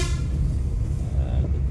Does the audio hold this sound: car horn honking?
yes